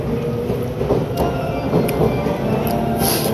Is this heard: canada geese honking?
no